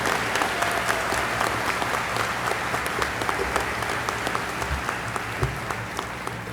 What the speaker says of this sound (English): Let's have one more big round of applause for all of our award recipients.